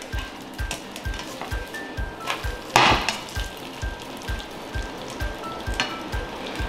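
Fried rice sizzles in a pan over moderate heat, a steady frying hiss punctuated by regular soft knocks of a utensil breaking up the rice, with one brief louder crackle midway.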